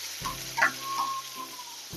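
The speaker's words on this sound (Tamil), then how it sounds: "சேர்த்துட்டு நல்லா இதை வந்து வதக்கி விடுவாங்க." Sliced onion sautés in oil with mustard seeds for tomato sambar, giving a soft, close sizzle broken by a couple of brief stirring scrapes.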